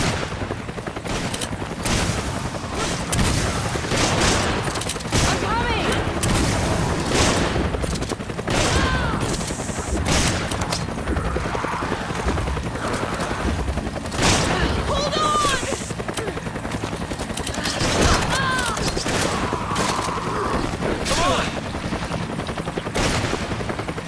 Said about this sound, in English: I can hear gunfire.